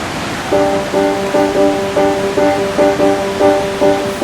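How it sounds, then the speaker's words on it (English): A steady, roaring rush of a Swiss waterfall crashing into a lake fills the scene, with a pulsing, repeating musical tone sounding over it. "it's this huge amount of water just crashing into this gorgeous lake"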